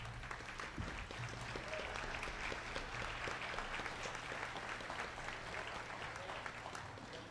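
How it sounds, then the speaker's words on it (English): Sustained applause from a concert audience at a salute to the armed forces concert, dense steady clapping filling the whole stretch at an even level with no voices over it. "Yeah, another round of applause."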